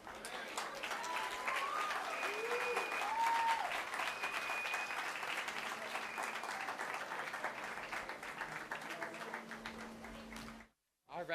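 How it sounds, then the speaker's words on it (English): Rally audience clapping, a full sustained round of applause from a crowd with scattered cheers and voices, fading slightly toward the end before a sudden cut. "can we give another round of applause for Rabbi Pomerantz?"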